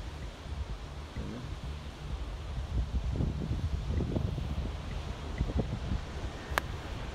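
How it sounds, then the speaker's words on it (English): Steady wind blowing across a beach, a broad, constant rush buffeting the microphone for the whole stretch, with faint scuffing sounds underneath. "That wind's not great, you know."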